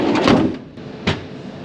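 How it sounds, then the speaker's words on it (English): A Mercedes Vito van door swings shut with a solid thud, followed by a second, sharper closing knock about a second later; close by, with no voices. "Shut that door again."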